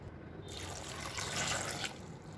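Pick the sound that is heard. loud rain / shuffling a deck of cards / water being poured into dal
water being poured into dal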